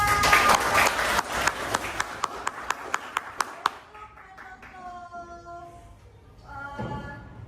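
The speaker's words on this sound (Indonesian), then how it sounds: "Ya, aplaus untuk kita semua." Classroom of students giving a short round of applause, a dense burst of clapping that thins into a few sharp single claps before fading, followed by soft background voices.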